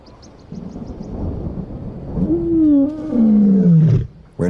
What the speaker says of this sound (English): When she roars, she calls to no one.